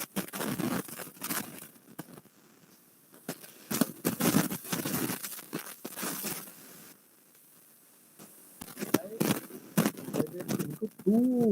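Pigeons outdoors under an open sky give soft, repeated coos that grow clearer toward the end, mixed with fluttering and pattering bursts throughout.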